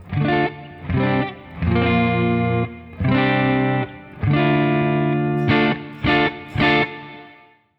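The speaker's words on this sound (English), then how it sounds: "Here's another matchless emulation. This one's got a boost built into it." Distorted electric guitar through a Matchless amp emulation pedal with built-in boost plays chopped chords in short bursts, loud and close, the final chord ringing out and fading.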